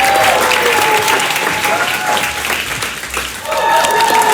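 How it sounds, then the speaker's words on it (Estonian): A comedy-show audience breaks into loud, sustained applause close by, dense clapping with crowd noise and a few whoops, briefly dipping before swelling again as a voice talks over it. "Teeme aga veel suure aplaus, Elis Ilja!"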